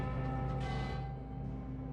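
Bells chime at the House of Chimes in the video game Sunless Skies, sustained ringing tones layered over one another and holding steadily for the whole stretch, with no speech.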